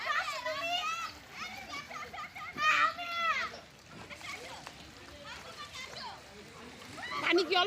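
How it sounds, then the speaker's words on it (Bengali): Children bathing in water at Anwar City Magic Island in Keraniganj, a mix of lively shouting, calling voices and intermittent splashes and sloshing. "এরা সবাই গোসল করতেছে"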